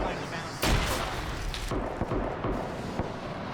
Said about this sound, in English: Another grenade being thrown.